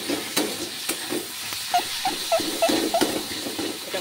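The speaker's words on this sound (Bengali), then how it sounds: "এটাকে আমি ভালো করে কষাতে থাকবো।" Taro greens with shrimp sauté in a pan, a steady sizzle broken by rhythmic scraping and stirring strokes of a spoon against the pan, close and clear.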